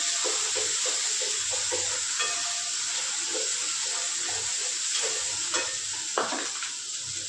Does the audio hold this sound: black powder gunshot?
no